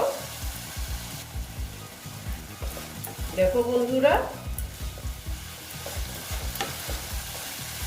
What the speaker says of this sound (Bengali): স্টিমটা কমিয়ে দিয়েছি আস্তে আস্তে কষিয়ে নেব